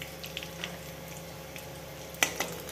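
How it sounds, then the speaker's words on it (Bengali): Dried red chillies and bay leaves fry in the oil left from frying catla fish, a soft continuous sizzle close by with a couple of light clicks near the end and no voices. "মাছ ভাজার তেলে দিয়ে দিলাম শুকনো লঙ্কা তেজপাতা"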